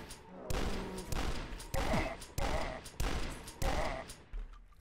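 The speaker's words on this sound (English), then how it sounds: "I really like this shotgun because of its accuracy." A shotgun in the retro shooter Dusk fires six times at a steady pace, each blast loud and punchy over faint game ambience.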